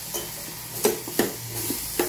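Vegetables including taro root being stirred with ghee for homemade baby food, with faint sizzling and a few soft scraping strokes in a quiet kitchen.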